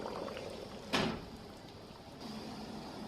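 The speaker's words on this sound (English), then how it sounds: "When the rack is full, I carefully lower it into the hot water." A canning rack full of tomato jam jars is lowered into a hot water bath, giving one sharp metallic clatter and splash, then a steady bubbling simmer that lasts to the end.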